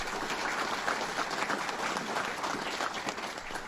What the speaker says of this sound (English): Senator Kathy Young, let's give her a round of applause.